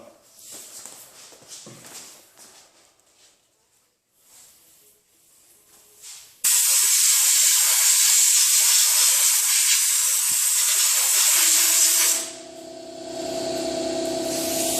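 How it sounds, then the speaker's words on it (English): A sandblaster works over the body kit area of a 1989 BMW E30 M-Tech II, starting abruptly as a loud, steady, close hiss of blasting sand that runs for several seconds before dropping to a softer hiss. "All right, I'm going to sandblast that area"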